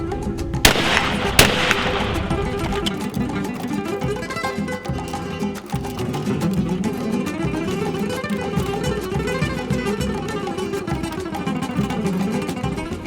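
Two sharp, loud 20 gauge shotgun blasts from a reloaded Fiocchi steel hull fire close together near the start, then a long stretch of steady, dense outdoor background noise follows without further shots.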